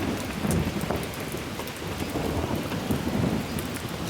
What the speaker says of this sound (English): It's raining, raining,